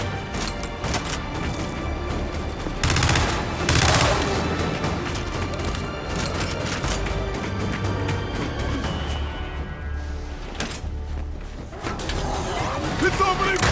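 Gunfire in Gears 5 as an enemy opens fire, a continuous loud barrage of shots and booms under frequent shouted player voices and game effects.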